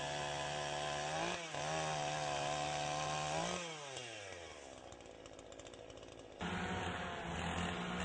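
A two-stroke chainsaw in forestry work revs steadily at high pitch, dips and drops in speed partway through, then climbs back up to full throttle, loud and close with no voices.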